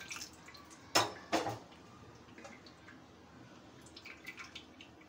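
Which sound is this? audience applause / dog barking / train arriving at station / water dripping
water dripping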